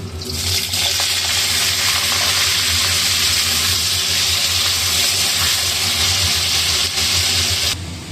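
Cut potatoes and a slit green chilli fry in oil tempered with panch phoron, for a sweet-shop-style potato curry, giving a loud, steady, dense sizzle that holds evenly throughout with no talking.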